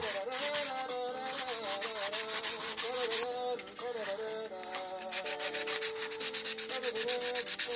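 Folded sandpaper rubs by hand along a groove in wood, making continuous rhythmic back-and-forth scratchy strokes that are close and loud, with no voices.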